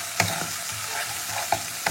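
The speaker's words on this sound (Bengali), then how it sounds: "জিরে লঙ্কা বাটা টমেটো বাটাতে একসঙ্গে খুব ভালো করে কষিয়ে নিতে হবে" Cumin, chili and tomato paste fry together in a pan, giving a steady sizzle with a few distinct utensil scrapes close by.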